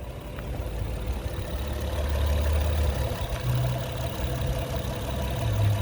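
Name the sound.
2015 Honda Accord EX-L engine idling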